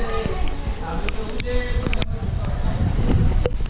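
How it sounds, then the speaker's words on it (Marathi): Heavy rain pours down around the Yemai Mata temple at Korfale, a dense, steady hiss with scattered drips and knocks, and faint voices now and then beneath the downpour. "पाऊसच पाऊस."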